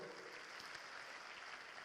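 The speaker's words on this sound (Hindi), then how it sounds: "अजय गोयल, शिल्पी गोयल, उनके लिए बड़ी यहाँ ताली दीजिए" Audience applause at an Amway diamond success celebration: a faint, steady wash of many hands clapping from a distance, continuous for the whole moment, with no voices over it.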